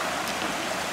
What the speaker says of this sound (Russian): По ней течет вода.